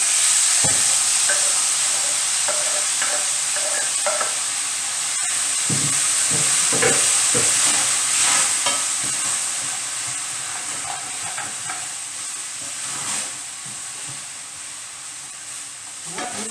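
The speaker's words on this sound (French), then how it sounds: "une fois que votre caramel a pris un peu de couleur mais pas trop, sinon ça vous donne un goût amer, vous versez la mangue dessus, dedans." Mango pieces poured into sizzling caramel in a pan, a steady close hiss of frying with scattered clatters and stirring knocks, the sizzle easing slightly toward the end.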